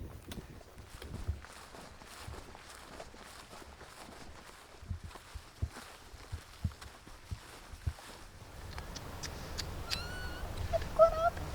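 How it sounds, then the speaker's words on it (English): A kitten gives high, short meows toward the end, outdoors along a woodland backpacking trail, preceded by steady footsteps crunching on the ground. "Well, hello, little kitty guy."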